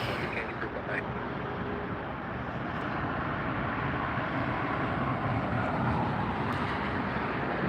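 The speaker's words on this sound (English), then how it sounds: "The Lufthansa A380 on its way to Munich." A Lufthansa Airbus A380 departing LAX for Munich, heard as a steady, broad jet roar that holds evenly throughout at moderate distance with no clear rise or fade.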